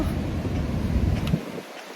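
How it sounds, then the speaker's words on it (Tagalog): Warm, humid wind buffets a microphone at a beach, a steady low rumble that drops away abruptly near the end. "Mahangin pero mainit ang hangin."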